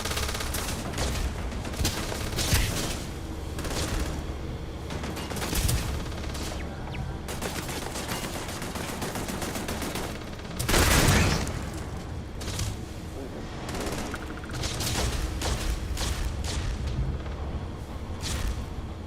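Sustained bursts of rapid gunfire from a firefight in the space game Starfield, dense volleys of cracking shots with a louder heavy blast partway through, continuing for nearly twenty seconds without speech.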